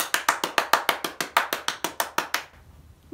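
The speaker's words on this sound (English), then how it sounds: "She clapped all night, she clapped all day, she clapped to frighten the cat away." A single pair of hands claps about fifteen times in a steady, even rhythm during a children's storytime about mice, close and crisp with no voices, then falls silent.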